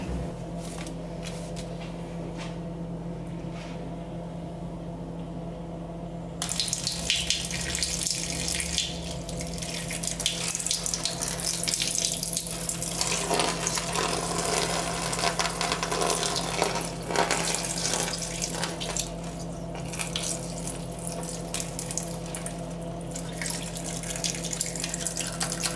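Tap water gushes steadily into a sink to dissolve water-soluble film from machine embroidery. A low hum comes first, then the flow starts abruptly and runs loud and continuous, with splashing as the fabric is moved under the stream.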